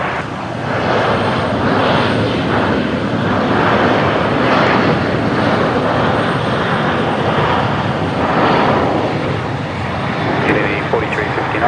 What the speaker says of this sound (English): So that's Qantas 532 that's just arrived from Sydney.